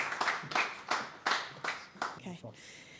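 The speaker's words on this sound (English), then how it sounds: "Can we have a big round of applause for our final speaker" Handful of loud, separate claps in a steady rhythm at a sales talk, welcoming the final speaker, fading out as a voice begins near the end.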